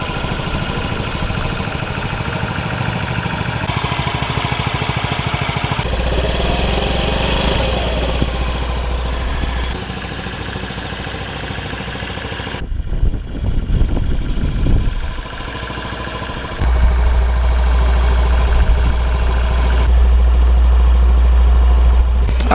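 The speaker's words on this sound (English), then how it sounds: "we got the Honda Ruckus just sitting here idle right now, just idling, letting it warm up" A 2023 Honda Ruckus scooter sits idling to warm up, its small engine putting out a steady low putter and clatter that holds close and even throughout, with some shifts in background noise.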